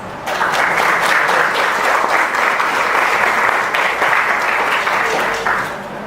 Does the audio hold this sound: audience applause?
yes